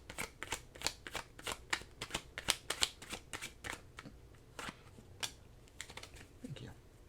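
Oracle cards being shuffled by hand up close, a quick run of crisp riffling flicks and soft slaps in uneven bursts, with no voices.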